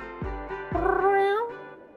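Two short cartoonish cat meows from the PC video game Mushroom Cats, the second longer and rising, heard close and clear with no talking.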